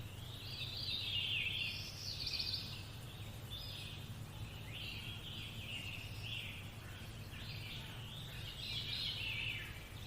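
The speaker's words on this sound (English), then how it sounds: "The symphony of all kinds of birds." Birdsong in an outdoor nature setting: repeated high chirps and trills come and go over a steady low background hum, moderately distant and continuous, with no talking.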